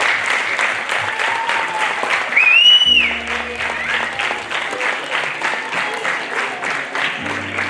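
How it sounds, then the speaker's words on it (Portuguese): Audience at a school bullying-awareness session in Aljustrel gives a sustained round of applause for a visiting actress, a dense, steady wash of clapping with a brief cheer or whistle partway through. "darmos uma grande salva de palmas à nossa Diana"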